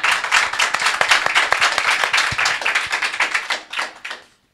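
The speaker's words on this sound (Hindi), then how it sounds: "एक बार जोर से ताली बजाएंगे।" A crowd claps loudly and steadily at a gathering for a few seconds, a dense fast patter of many hands that fades out abruptly at the end.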